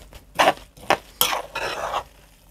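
Garlic scapes stirred together with pepper in a bowl, giving a few separate scraping, clinking bursts of utensil against the bowl, close and moderately loud, with short pauses between strokes.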